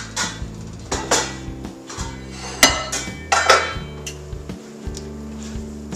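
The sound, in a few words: beef bourguignon being put into a big cooking pot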